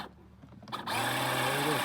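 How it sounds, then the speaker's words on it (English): The electric motor of an upgraded Peg Perego John Deere ride-on toy tractor kicks in suddenly and whirs at a steady high pitch, loud and close, after a few quiet clicks and shuffles. "All right, Mr. Wyatt, hit the gas pedal."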